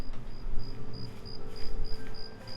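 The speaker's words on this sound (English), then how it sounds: "The crickets." Crickets chirping in a video game soundscape, a steady, evenly spaced series of high pulses over a low ambient music bed, moderately quiet and continuous.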